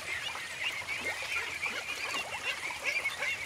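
Khaki Campbell ducks bathing on a farm, quacking and honking in a steady, overlapping chatter, a small flock calling nearby without pause.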